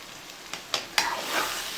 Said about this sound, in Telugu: హైలో పెట్టడం వల్ల చికెన్ మంచిగా ఫ్రై అయ్యి బాగుంటుంది. 2-3 నిమిషాలు ఇలా ఫ్రై చేయండి.